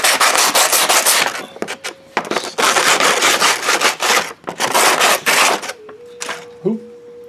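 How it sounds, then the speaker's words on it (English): Steady, loud rasping of sandpaper working the edges of a model roof piece, long continuous strokes broken by short pauses, close to the mic, ending with a few light clicks. "You do have to go back and kind of sand the edges a little bit."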